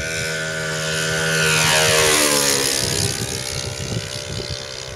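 A P-51 propeller aircraft, a model plane, passes close overhead before landing, its engine drone rising loud then sweeping down in pitch as it flies by, steady and without talk.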